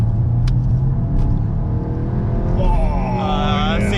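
A VW Golf GTI Clubsport MK8 accelerates hard, its engine droning loud and steady from inside the cabin and climbing in pitch toward the end as revs rise through the gear.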